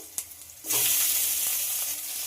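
Eggplant pieces hit hot oil and burst into a steady, loud sizzle that holds for the rest of the moment, with small crackles over a broad hiss; a faint tap comes just before it.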